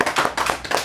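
Brief, close clapping from a church congregation during a service, a few sharp overlapping claps in quick succession.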